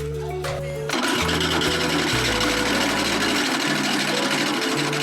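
A motorized grinding mill at a local grinding spot runs on soaked sorghum (Guinea corn) for kunu. Its loud, steady mechanical drone starts after a brief softer moment and continues alone without pause.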